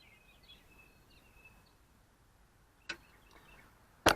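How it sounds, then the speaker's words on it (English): Thin bird chirps and whistles sound faintly outdoors in Idaho against a soft background hiss, broken by a couple of sharp clicks. "Man, these birds are loud out here."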